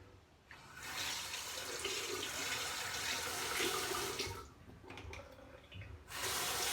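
Shaving razor rinsed under a running tap, a close, steady gush of water that pauses briefly, then starts again.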